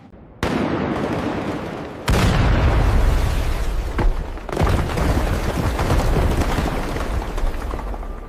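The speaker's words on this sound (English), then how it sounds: "A licensed blasting team places controlled commercial charges inside the drilled holes." Controlled commercial blasting charges fracture a drilled salt section inside a Himalayan pink salt mine chamber in Pakistan, with several loud booming blasts that hit abruptly and leave a sustained rumbling roar.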